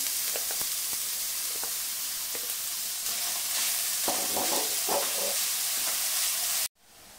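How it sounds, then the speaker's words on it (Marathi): Grated carrots sauté in melted ghee in a pan for carrot halwa, a steady broadband sizzle throughout with occasional stirring clicks, close and fairly loud, ending abruptly. "गाजर हे तुपावरती छान परतून घ्यायचे"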